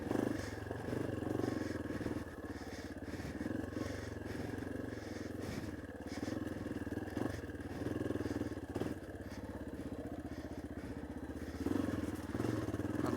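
A Yamaha XT250 motorcycle rides a rough, rocky trail in northwest Alabama, its engine droning steadily at close range with bumps, clatters and thuds from the terrain throughout.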